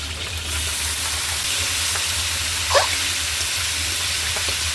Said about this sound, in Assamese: এতিয়া এইখিনিৰ লগতে এয়া কলফুলখিনিও ভাজি ল'ম অকণমান